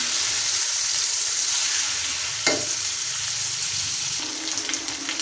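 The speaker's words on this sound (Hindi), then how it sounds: "चिकन को शामिल कर देंगे और इसको अच्छी तरह हम भून लेंगे" Chicken pieces fry in a pan for biryani, giving a steady, loud, close sizzle with a brief scrape of stirring partway through.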